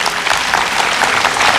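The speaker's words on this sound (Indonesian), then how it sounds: "Kita beri tepuk tangan dari Universitas Indonesia." An audience at a Jakarta event marking International Day of Persons with Disabilities breaks into loud, dense applause, many hands clapping together close by without pause.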